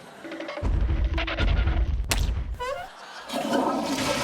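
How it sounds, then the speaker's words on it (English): A toilet flushes with a loud, sudden rush of water, then gurgles and drains before a softer hiss of refilling follows. "People are flushing toilets 10 times,"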